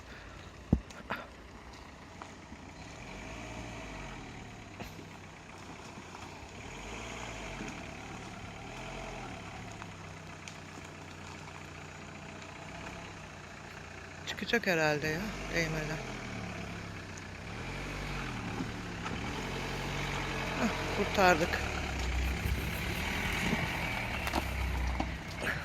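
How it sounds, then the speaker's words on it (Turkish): A car engine idles and labors as the car climbs off a forest floor back onto a road, a low steady rumble with surges in effort, while people talk over it. "Bakalım çıkabilecek mi araba."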